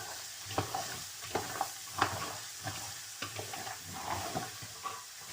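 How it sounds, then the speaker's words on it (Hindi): Carrots being lightly roasted and stirred in a pan, with a soft steady sizzle and repeated scraping, clinking stirs of a utensil against the pan at close range. "इसको मैं बस भूनना है थोड़ा सा"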